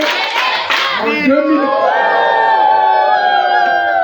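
A crowd at a gathering bursts into loud cheering and shouting, voices rising together and sustained for several seconds, close and dense.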